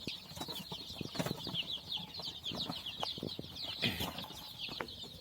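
Healthy farm chickens cluck and squawk faintly in short, scattered bursts, with a steady high chatter of birds and occasional wing flaps in the background.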